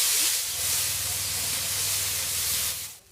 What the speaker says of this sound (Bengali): এই যে জল ঢেলে দিলাম